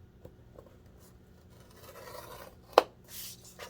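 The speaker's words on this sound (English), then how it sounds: "So I'm going to score this at 2 inches." A scoring tool draws along paper from a small pad, a soft scraping rub that builds and then ends in one brief sharp stroke near the close, quiet and up close.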